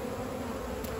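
Honey bees hum in a steady, low drone around an open beehive, a faint continuous buzz with no other sounds.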